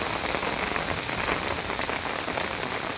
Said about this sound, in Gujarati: બહુ ભારે વરસાદ છે